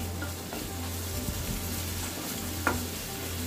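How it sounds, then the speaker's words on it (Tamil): Chopped onions sautéing in a pan over a medium flame give a soft, continuous sizzle, broken by a few light stirring clicks and scrapes, with no talk. "வெங்காயத்தை வந்து நல்லா பொன் நிறமாக வர வரைக்கும் மிதமான தீயில் இதை வதக்கிக்கலாம்"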